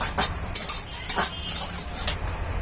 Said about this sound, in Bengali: এবার আমি সুজিটা ভেজে দেবো সুজিটাকে হালকা ভেজে নেব